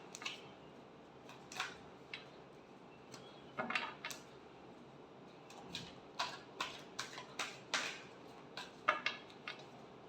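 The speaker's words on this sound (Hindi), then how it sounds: "Last shuffle." Tarot cards being shuffled by hand, giving a quiet run of short crisp riffles and taps in an uneven rhythm, close by and faint, with no talking.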